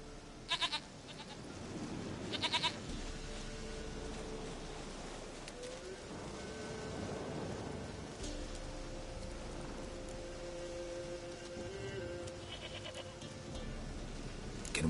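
Brief bleats from a goat in The Witcher 3 come early, then a long stretch of soft ambient game atmosphere with faint tonal sounds.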